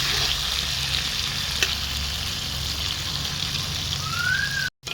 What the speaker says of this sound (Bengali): আর এই যে আলু ভেজে নিচ্ছি হালকা করে